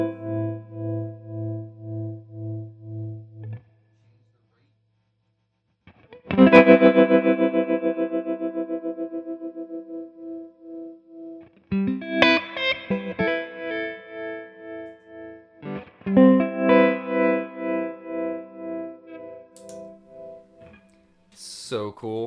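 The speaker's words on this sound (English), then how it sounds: "this first setting is more of like the standard trem that you might be used to hearing" Electric guitar through a Walrus Audio M1 pedal on a standard tremolo setting: sustained chords pulsing in an even, regular volume throb, with pauses between phrases and a few new strums, played close and alone.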